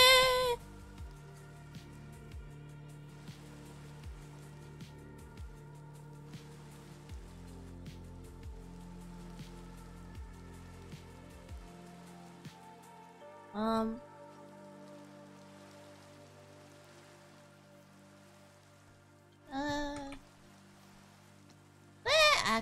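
Rain falling in the video game Minecraft, a steady soft patter and hiss running continuously throughout, with a few brief louder thumps and game sounds breaking through, no talking.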